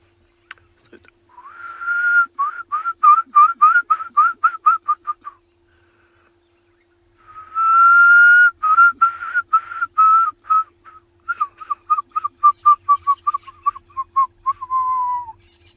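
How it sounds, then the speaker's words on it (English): Loud, clear African fish eagle calls in rapid whistled series, sharp repeated notes ringing out in bursts with short pauses between, no voices present, on a South African safari. "That's a fish eagle."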